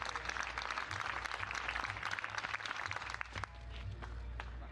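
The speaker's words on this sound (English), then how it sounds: "And all eyes on her, just look at that, everybody clapping." Faint, distant clapping from spectators in an athletics stadium during a women's javelin competition, a steady patter of many hands over a low droning hum.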